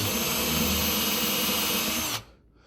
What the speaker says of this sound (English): I'm gonna drill a pilot hole for a screw that's going to hold the thing together